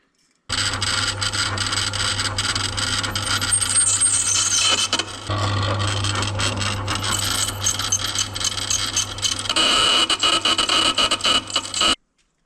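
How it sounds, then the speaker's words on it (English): A drill grinding into hardened steel on a small barn-find buggy, metal previously cut with a plasma cutter, producing a loud, continuous harsh scraping and chattering that runs for about eleven seconds before stopping abruptly. "Not normal drilling sounds."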